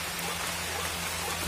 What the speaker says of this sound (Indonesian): Apa karena gerimis-gerimis ini?